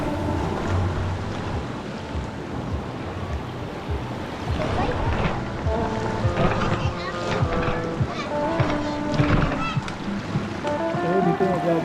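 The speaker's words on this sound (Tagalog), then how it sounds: "Oh, malakas ang agos." A strong river current rushes near a waterfall at Puray Falls, a loud, dense churning wash of water that continues throughout, with voices talking over it.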